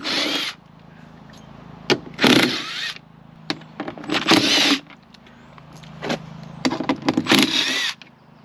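A power drill backing screws out of a Tesla Model 3 interior door panel makes several close, loud whirring bursts of about a second each, with clicks and handling knocks between them.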